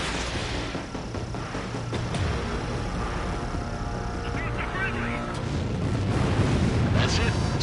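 An enemy bomber is shot down in Ace Combat 7 and explodes in a loud, sustained roar of booms and blasts, layered over jet noise and combat radio chatter.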